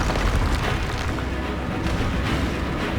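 Expulso explosion spell in Hogwarts Legacy, booming blasts and eruptions that fill a continuous, loud battle din with no pause.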